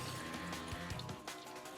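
Leftover cleaning water runs through a brewing recirculation hose in a steady liquid flow, a moderately loud continuous gush with some low fluctuation and drip-like trickling under it, no voices.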